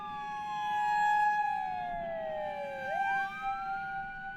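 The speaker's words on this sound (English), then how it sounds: "sirens wailed in the distance, growing louder as police cars descended upon the quiet neighborhood" A siren wails in long, slow descending and rising sweeps, fairly loud and steady over a low rumble, with no speech.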